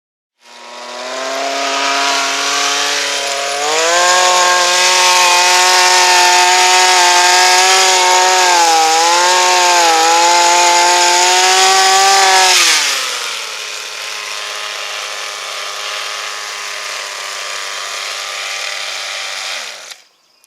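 A Ryobi 18V Expand-It two-stroke powerhead runs close and loud, its engine revving up to a high steady whine for several seconds, then dropping back to a lower, quieter idle.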